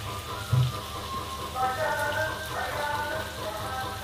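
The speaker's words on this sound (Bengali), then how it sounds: "চিনিটা দেওয়ার পরে ঝিঙেটাকে ভালো করে 10 মিনিট ধরে নেড়ে চেড়ে ভেজে নিতে হবে।" Ridge gourd fries in a pan with salt, turmeric and sugar, giving a steady close sizzle and crackle with brief stirring clatter.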